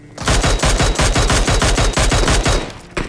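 DMR rifle gunfire in a battle royale video game: a rapid, evenly spaced string of about fifteen loud, close shots, then a brief pause and one more shot.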